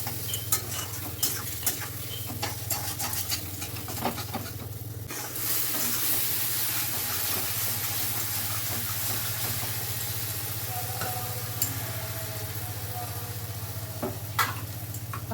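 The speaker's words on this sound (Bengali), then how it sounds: "এবার মশলাটাকে ভালো করেই কষিয়ে" Spice masala sautéing in a pan with a splash of water, a continuous sizzle with frequent spatula scrapes and taps, heard close over a low steady hum from a nearby appliance.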